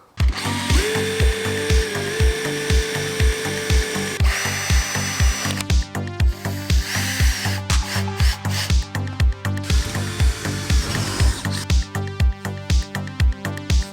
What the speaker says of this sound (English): get one of these countersink drill bits, and I'm really glad I did, because it's really doing the job.